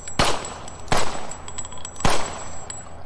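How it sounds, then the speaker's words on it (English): Gunfire in a VR horror video game: three loud, sharp shots spaced roughly a second apart, each a sudden crack with a brief ringing tail, heard up close and alone. "I got a gun now."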